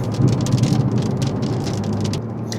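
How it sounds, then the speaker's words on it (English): Steady rain falls in a dense, continuous patter, likely drumming on a car during a drive, loud and even throughout with no voices. "But now the rain is a little bit disturbing."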